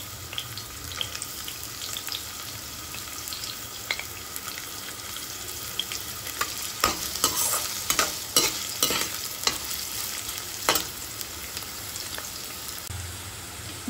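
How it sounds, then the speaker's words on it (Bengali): Carrots frying in hot oil for fried rice, a continuous close sizzle with repeated scraping stirs that cluster into a busier burst midway, no voices. "এবার এর মধ্যে আমি গাজরগুলি প্রথমে একটু ভেজে নেব।"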